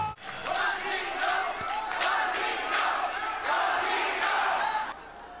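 At an event in Seoul, an audience rises in a standing ovation, cheering and shouting loudly in several surging waves over continuous crowd noise before it drops away at the end.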